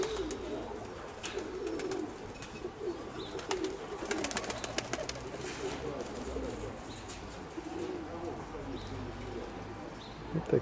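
Young pigeons in a pigeon loft coo in soft, low, burbling calls that continue throughout, with someone speaking nearby and some faint rustling and wing movement.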